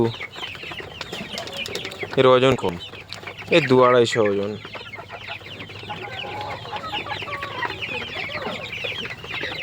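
Quail birds at a chicken farm call amid a dense background of clucking fowl, with a couple of louder, harmonic bird calls standing out near the middle, while someone talks briefly at the start.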